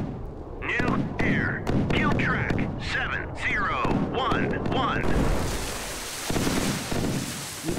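Warship guns firing in a naval combat game set in the missile age, a run of heavy booming shots in quick succession with someone talking over them, followed by a rumbling roar.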